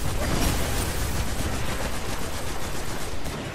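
Dense, continuous gunfire from the Destiny video game, a loud sustained crackle of rapid shots with no gaps and no talk over it.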